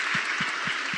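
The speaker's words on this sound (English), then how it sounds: "Everybody give yourselves a round of applause for making it in the rain" Dense, steady applause at a school board forum on a rainy day, a wash of many hands clapping at once with a faint low thump recurring underneath.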